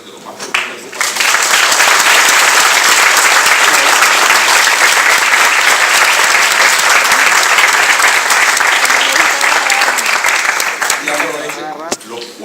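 Sustained applause from a university forum audience on family law, loud and steady for about eleven seconds before tapering off, with some voices mixed into the clapping.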